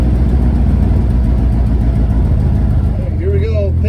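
A Volkswagen Beetle engine running on the road while cold, a loud steady low rumble close up with a rough, bumpy ride and a brief whine near the end as it shifts gears; someone talks over it.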